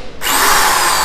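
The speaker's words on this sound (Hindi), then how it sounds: "अभी आपको बराबर करके ड्रिल मशीन की सहायता से" A power drill starts abruptly and whirs at a steady, loud pitch while boring holes in a door to fit L hinges.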